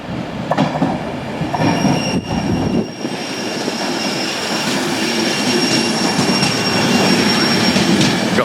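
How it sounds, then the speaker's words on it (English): A Class 91 electric locomotive with its train rolls into a station, a loud, steady rumble of wheels and carriages with a high sustained whine and squeal running throughout, close by. "Right, our train is coming in here now. It's a 91."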